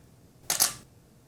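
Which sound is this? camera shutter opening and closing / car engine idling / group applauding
camera shutter opening and closing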